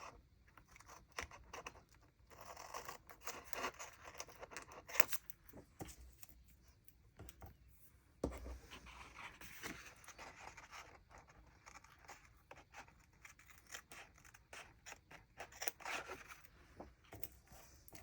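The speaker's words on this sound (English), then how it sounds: "I'm gonna go ahead and trim all these tapes because we don't need them sticking out over the edge anymore." Scissors trim excess decorative tapes along the edge of a journal page, giving faint, close snips and paper rustles in an irregular rhythm with no voices.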